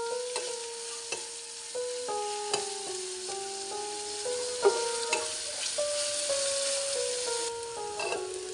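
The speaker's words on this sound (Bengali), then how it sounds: "আদা রসুন পেঁয়াজ দিয়ে আমি এবার একটু ভেজে নিব" Ginger, garlic and onion fry in a pan with a steady close sizzle, stirred with regular scraping strokes and light taps against the pan, over a faint tonal hum.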